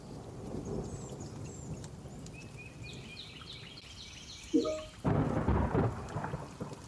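A thunderstorm outside with rain falling steadily and a low rumble of thunder, birds chirping faintly in the distance, then a louder burst of heavier rain and thunder near the end, no talking.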